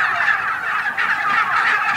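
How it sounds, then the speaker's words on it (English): Heritage breed wild turkeys on a pasture gobble loudly and close by, with rapid warbling calls that repeat throughout the two seconds and no voices over them. "the heritage breed wild turkeys, all pecking freely around the pasture"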